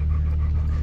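A Labrador dog pants steadily and close by in fast, even breaths, with no talking over it.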